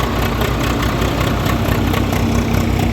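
A tractor engine runs steadily on a peanut farm, a continuous loud low idling drone with no pauses and no talk over it.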